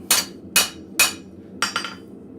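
Ball peen hammer blows on metal in a blacksmith's forge: four sharp, ringing strikes at a steady pace, the last quickly doubled, close and clear with quiet pauses between.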